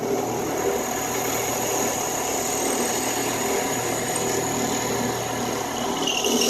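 A power drill with a 1/3 inch bit bores into a soapstone pipe, a steady close whine running continuously without pause.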